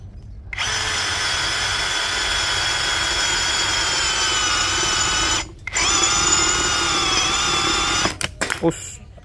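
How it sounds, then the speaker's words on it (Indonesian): A Doliz BD636 cordless brushless drill whirs loudly and steadily, briefly stops, restarts, then ends with a few short bursts. "Pada kecepatan nomor 2 juga bisa digunakan untuk mengebor besi."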